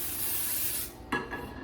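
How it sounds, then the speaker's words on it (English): A short hiss of cooking spray onto a pan lasting most of a second, followed by a couple of faint clicks and light rustling. "So I'm going to go ahead and spray my pan"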